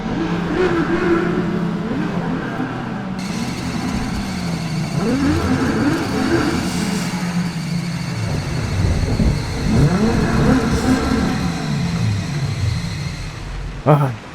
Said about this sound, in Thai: ขี่รถมาจอดปั๊มน้ำมัน